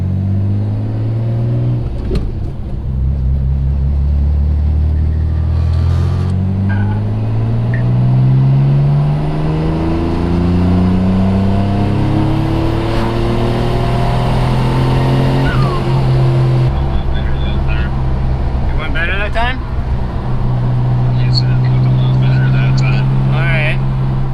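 Mitsubishi 3000GT VR4 engine pulling hard from 2,000 rpm to 55, its note climbing and falling through gears, loud and steady from inside the car, with people talking over it.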